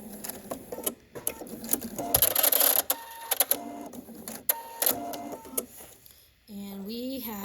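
A sewing machine stitches and back-tacks a cloth mask, quick rattling bursts of stitching with clicks and pauses, then a lower steady hum at the end; a voice is briefly heard.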